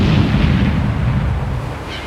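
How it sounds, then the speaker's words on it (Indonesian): A low, muffled rumble rolls on for a couple of seconds, like a dull explosion heard from far off, steady and heavy in the low end. "Terdengar bunyi ledakan tumpul dari kejauhan."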